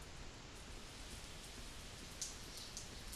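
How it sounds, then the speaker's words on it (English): Steady rain falling in the physics puzzle game And Yet It Moves, a soft, even hiss of drops that holds at a low level throughout with no voices. "The rain over there, did you see that?"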